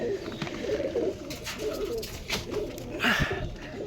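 A pair of Teddy pigeons coos in low, throaty, rolling bursts nearby, repeating across the moment with a faint rustle and a short higher squeak near the end.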